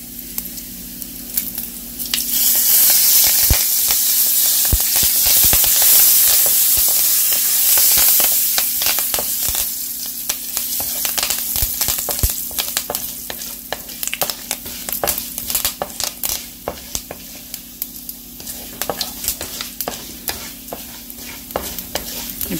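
Curry leaves, chana dal and urad dal frying in hot oil for a potato masala, a bright continuous sizzle with repeated clicks and scrapes of a spoon stirring the pan, louder in the first few seconds and then settling.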